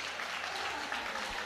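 Dense, steady applause from the crowd at a world classic powerlifting championship, a continuous wash of clapping with no break and no talk.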